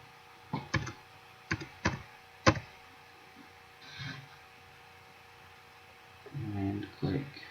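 Keys on a computer keyboard are tapped in a few short, distinct clusters while a folder name is entered, close and quiet over a faint mains hum, with brief murmured speech in between.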